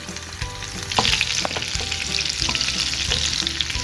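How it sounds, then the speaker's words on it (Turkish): Butter sizzles with garlic in a pan while being slowly stirred for a yogurt cabbage soup, a steady close frying hiss with occasional utensil scrapes and taps, no talking. "Şimdi bir yemek kaşığı civarında tereyağını tavamıza ekleyelim. Yavaşça karıştırmaya devam edelim."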